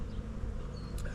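Honey bees buzz in a close, continuous hum, a dense drone with no voices.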